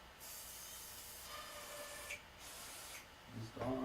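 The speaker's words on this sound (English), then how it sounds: "So first, we're going to spray some on here." RockShox Suspension Cleaner is sprayed onto a bike's suspension, making soft continuous aerosol hissing in a few bursts, faint and close, with handling noise at the end.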